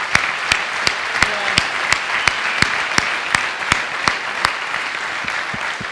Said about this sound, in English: So I think we should actually clap it up for Kasper.